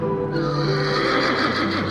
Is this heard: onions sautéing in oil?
no